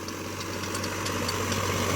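Sonalika 47 RX tractor engine running a 72-blade rotavator at about 1600 rpm, a steady, loud mechanical drone with a low hum throughout and no talking.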